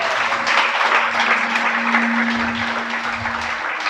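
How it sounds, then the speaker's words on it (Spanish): A congregation at a Shabbat service gives a sustained round of applause, many hands clapping loudly and evenly for several seconds, with a faint held tone running beneath. "Dale un aplauso."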